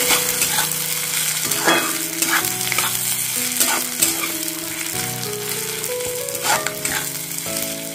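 Fried potatoes sizzle in hot oil in a pan along with fish head for a Bengali muri ghanto, with a continuous loud hiss and occasional stirring scrapes, close up and with no voices.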